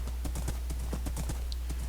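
A horse's hooves clip-clop steadily in Minecraft, sounding as quick, evenly spaced soft thuds over a constant low hum.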